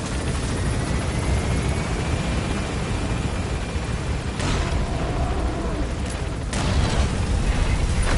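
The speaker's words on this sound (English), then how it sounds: "Use the chopper's minigun." Helicopter in Metal Gear Solid V climbing as it gains altitude, a steady loud rotor roar that fills the whole stretch, swelling near the end.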